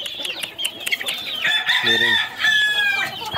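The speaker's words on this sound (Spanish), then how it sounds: "Miren, amigos, aquí va la pollada más grandota" Young chickens, one to nearly four months old, call and cluck in a farm pen, with a loud harmonic cry midway and a shorter call near the end over steady background noise, while someone speaks briefly.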